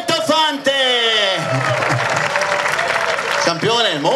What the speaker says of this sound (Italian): un grande applauso a un altro campione del mondo